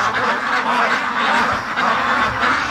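Free-range ducks keep up a dense, continuous chorus of quacking and honking on a hazy, moonlit night, a steady flock din without pauses.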